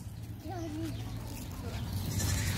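A young goat gives a short wavering bleat over steady rumbling background noise at an animal park, followed by quieter, fainter sounds.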